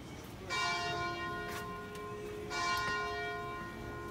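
A church bell rings in Kotor, Montenegro, with two resonant strokes about two seconds apart, each leaving a long humming decay, heard alone without talk.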